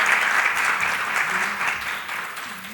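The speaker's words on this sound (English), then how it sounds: "Please welcome our panelists with strong applause." Conference audience applauding to welcome panelists at a session on international agreements and supranational regulation, a continuous full round of clapping that gradually tapers off.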